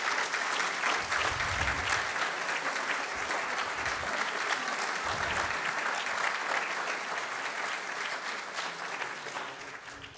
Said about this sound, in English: Could you please stand for a quick round of applause?